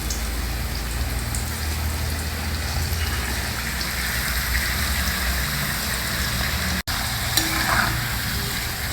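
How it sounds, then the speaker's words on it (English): Steady, dense sizzling of sweet potato slices deep-frying in hot oil, continuous and close, with a brief dip near the end before the crackle resumes. "take out the sweet potato slices and drop them one by one into the oil"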